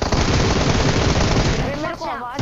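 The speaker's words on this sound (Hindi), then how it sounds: "ये छोटे से रूम में एक कैंपर होता है, वो मेरे पे पीछे से फायर करता है" Loud, dense automatic gunfire rattles nonstop in a battle royale video game, fired from behind at close range, then breaks off near the end as a voice briefly comes through.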